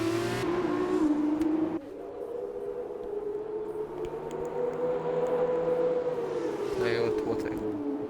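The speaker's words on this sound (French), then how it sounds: "moi je trouve le son des F2 vraiment très beau à écouter" Formula 2 race car engines in a racing video game drone with a high, sustained whine that shifts pitch through gear changes, loud and continuous, while commentators talk over it.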